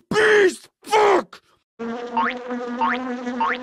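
Buzzing bees in a Club Penguin game, a steady droning hum with wavering upward whines, heard alone after two short loud groaning voice bursts.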